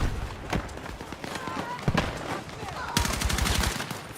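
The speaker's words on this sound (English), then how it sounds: "Which gun am I using? The AK carbine." Rapid bursts of AK carbine fire in a shooter video game, with sharp repeated cracks over a busy background of other game sounds and distant shots.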